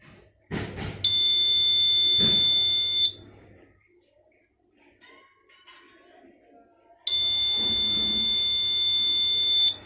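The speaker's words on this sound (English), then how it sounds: "whenever smoke sensor senses smoke, red alarm will create." A shrill smoke detector alarm blares loudly for a couple of seconds, falls silent amid faint clicks and murmurs, then sounds again just as loudly.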